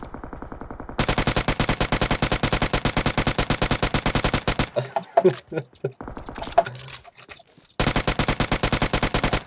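Rapid automatic gunfire in PUBG Mobile rattles out in long, evenly spaced loud bursts, broken by a short gap filled with clatter and brief talk before the shooting resumes.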